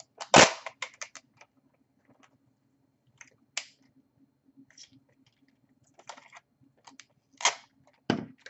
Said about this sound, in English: use some tape to tape the LED on the paper